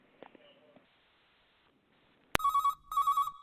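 A telephone rings in two loud, close electronic bursts of rapid warbling tone, separated by a short gap. Faint, soft sounds come before the rings.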